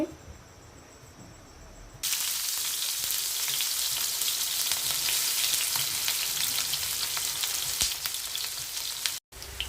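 Prawns sizzle loudly in a pan of onions, a steady hiss of frying that jumps in volume after a quiet start and runs continuously with a brief break near the end.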